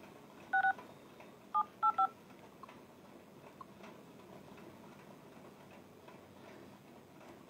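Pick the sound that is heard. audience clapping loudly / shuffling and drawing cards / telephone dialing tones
telephone dialing tones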